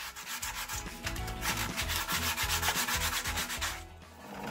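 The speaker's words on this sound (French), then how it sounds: "je le fais à la main et j'utilise du papier 80" Someone hand-sands a wooden Harley Benton Telecaster kit guitar body with 80-grit sandpaper, making a close, continuous rasping rub with quick back-and-forth strokes in a steady rhythm.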